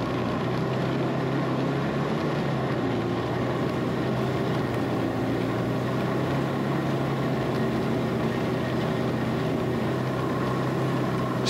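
A Ski-Doo snowmobile engine drones steadily and loudly through a winter ride, with a constant low-pitched roar and rushing wind across the whole stretch and no talking.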